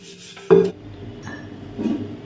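Containers and bowls being scrubbed and washed by hand, with a sharp clatter of dishes near the start and a softer knock later over quiet sink noise.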